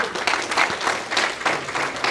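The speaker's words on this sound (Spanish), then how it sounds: "Denle un aplauso a nuestro Señor." A church audience applauds in praise, a brief wash of clapping that swells in uneven waves over about two seconds.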